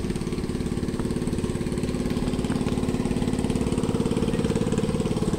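A small motorboat engine chugs with a rapid, steady putter, fairly close and constant over the short stretch, with no one speaking.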